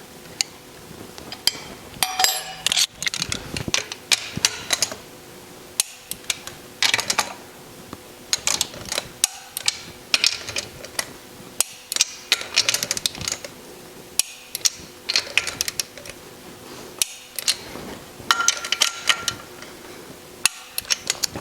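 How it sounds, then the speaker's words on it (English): Wrench tightening nuts on an air-cooled Porsche engine case, giving repeated metallic clicks and clanks in irregular bursts throughout, close up, with no talking. "I can't get a torque wrench in there, so I'm just going to use my wrench"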